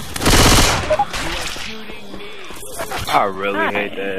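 Gunfire in Left 4 Dead's Dark Carnival opens as a loud, dense burst of rapid shots in the first second, followed by quieter game noises and people talking.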